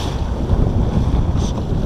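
Mirror dinghy under reefed mainsail and full jib on the sea in the Solent, with heavy wind buffeting the microphone and water rushing along the hull in a steady, close, roaring wash.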